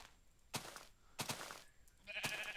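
Three separate sheep bleats from a video game spaced about a second apart, each short and nasal, with a slightly artificial game-like quality and quiet background between them.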